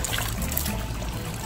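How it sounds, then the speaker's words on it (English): Water poured into a container at a pond-side outlet and rinsed back out, a steady close trickling and splashing that runs continuously with no talk over it. "put a little water in there"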